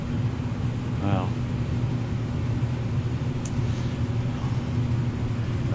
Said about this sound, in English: Might as well shut down the furnace, wasting heat here.